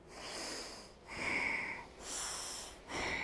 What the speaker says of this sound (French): Inspirez et expirez pour chaque narine en soulevant la poitrine et en descendant.